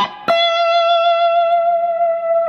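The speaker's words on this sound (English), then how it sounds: "Okay, put that together and we have the final lick" Electric guitar closing lick from the solo: a sharp picked attack, then a single sustained note with heavy vibrato ringing clearly and alone for a couple of seconds, slightly distorted.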